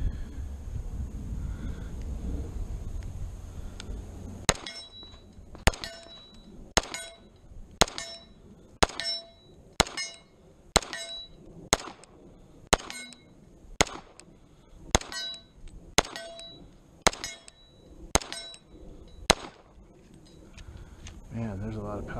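An FNH FNX-45 pistol fires a magazine of .45 rounds at steel targets outdoors: about fourteen sharp reports, roughly one per second, each with a ringing metallic clang from the steel, after a short stretch of wind noise.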